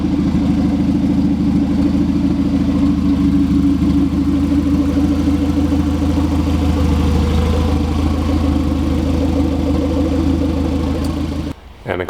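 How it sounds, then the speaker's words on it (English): A turbocharged Honda Civic EF engine idles steadily, a loud, continuous low rumble with an even pulsing rhythm, running alone until it briefly drops off near the end. "And the car's sounding great"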